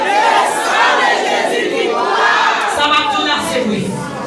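A congregation at a worship and adoration service shouts Jesus' victory together, a loud, sustained mass of voices rising and falling in waves of crowd cries.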